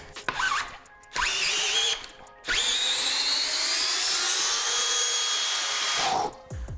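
A DeWALT DCD791 18V brushless cordless drill backs a large threaded bolt out of wood, whining loud and close in a short burst, then a long sustained run that winds down.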